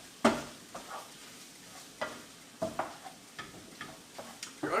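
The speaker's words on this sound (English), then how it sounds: "And I'm going to start toasting the roll." A cheesesteak roll sits toasting on a griddle beside cooking onions, peppers and mushrooms, a quiet sizzle broken by repeated light scraping and tapping clicks of a spatula, no voices.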